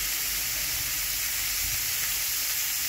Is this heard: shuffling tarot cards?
no